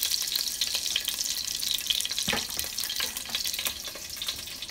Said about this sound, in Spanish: Vamos a echarle la cebolla. Para freír el chile.